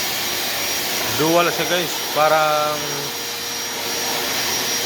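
Black & Decker vacuum cleaner working over a slippery gym mat, a steady loud motor whine running throughout while someone speaks briefly over it.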